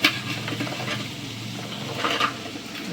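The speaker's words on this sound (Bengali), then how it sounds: "এখন আমি এই যে সবজিগুলো দিয়ে দিই" Vegetables for a nine-vegetable khichuri go into a hot pot with fried lentils, giving a steady close sizzle with a few stirring scrapes and a soft clink near the start.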